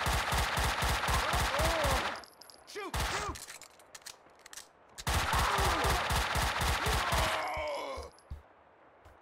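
Rapid bursts of automatic gunfire in the video game Max Payne 2, a loud sustained volley, a pause with scattered shots, then another long volley before tapering off.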